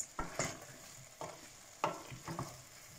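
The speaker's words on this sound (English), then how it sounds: "Give it a little mix." Spoon stirring cumin and coriander powder into a thick butternut squash curry in a heavy-based pan, giving several soft scraping strokes with a faint sizzle underneath, close and quiet, no talking.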